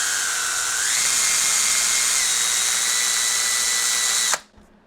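A power drill whines steadily and loudly at high pitch, its tone shifting slightly as it bites, then cuts off abruptly near the end.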